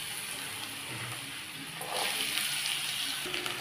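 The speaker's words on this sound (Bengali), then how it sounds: "এবার আমি এই আলুগুলো দিয়ে দিচ্ছি" Washed chopped potatoes for bhendi alu posto bhujia go into hot oil, a low steady sizzle that swells into a louder, splashy burst of frying midway and stays raised, close by with no talking.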